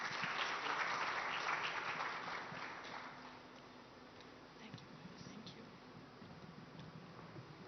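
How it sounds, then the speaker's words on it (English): Audience applause at an India Today Mahindra Drivers of Change event, a loud burst of many hands clapping that tapers off after a few seconds, leaving faint room sound and quiet murmuring. "A big round of applause, please, for Madhav Krishna."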